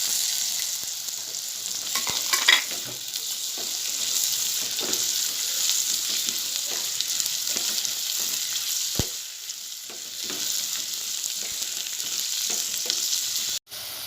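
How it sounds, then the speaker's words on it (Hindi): Chopped radish fries with softened onions in a pan, a loud continuous close sizzle with occasional stirring scrapes and a sharp knock near the end, no voices. "अब मैं इसमें कटी हुई मूली डालूँगी और इसे भी प्याज में नरम करूँगी"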